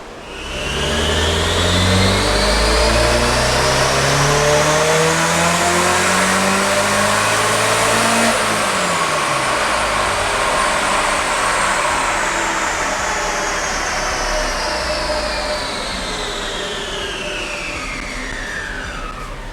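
Supercharged Mazda Miata engine running on E85 and revving hard on a dyno, a loud close roar climbing steadily in pitch with supercharger whine, peaking mid-run, then winding down gradually over a long sustained pull.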